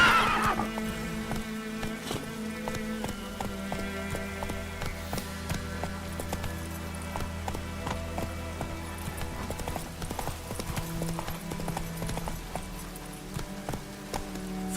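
Roach, the horse in The Witcher 3, gallops in a steady rhythmic clip-clop of hooves with an occasional whinny, close and continuous under sustained in-game music throughout.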